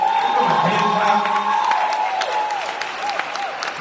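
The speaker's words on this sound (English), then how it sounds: "can we just give our minstrels a hand?" A church congregation at Sunday morning worship applauds the musicians, steady clapping with some cheering and whoops filling the room while voices and a few melodic tones carry on underneath.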